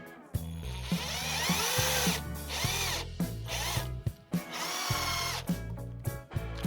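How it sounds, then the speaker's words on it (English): Power drill unscrewing the housing of a circuit breaker during teardown, short whirring bursts of motor spin with pitch sweeps and brief pauses between screws, close and fairly quiet. "Taking breaker apart, unscrewing housing."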